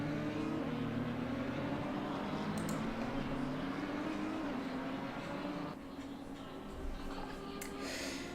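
Onboard engine drone of a McLaren GT3 race car in the ACC racing game at Circuit of the Americas, held steady and rising in pitch, then easing as the car tucks into a slipstream.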